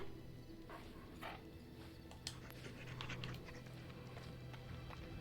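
A mabari war dog in the video game Dragon Age: Origins pants and scrabbles over a low game soundscape, with faint clopping footfalls and a few sharp clicks.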